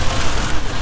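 Rain falls steadily near Cannon Beach, a dense, loud hiss of drops on surfaces, brief and continuous with no talking.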